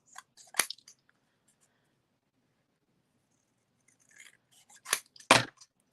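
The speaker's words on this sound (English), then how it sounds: "All right, so I'm just hand trimming this." Scissors hand-trim paper for a Christmas card: one crisp snip near the start, a quiet pause, then a quick run of several close, sharp cuts.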